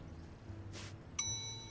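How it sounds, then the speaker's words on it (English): A bell in the Leisure Suit Larry video game rings once with a bright, clear ding that sustains and slowly fades, preceded by a soft brushy noise over a low hum. "Go ring your own bell."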